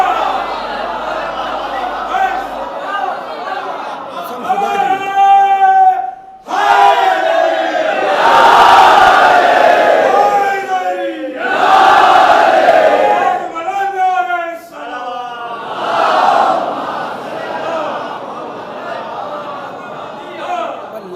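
A large crowd at a Shia majlis chants religious slogans in loud, rhythmic unison bursts separated by short pauses, with a leader's voice calling out and the gathering answering together.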